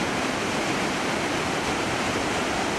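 Roaring Iguaçu waterfalls in Brazil, a dense, steady broadband rush of heavy falling water that stays loud and unbroken throughout, with no voices.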